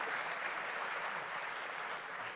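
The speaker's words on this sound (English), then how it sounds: "Round of applause," Audience applause fills a main-stage presentation hall at Frontier Expo 2017, a steady dense wash of clapping held at even loudness from start to finish with no break.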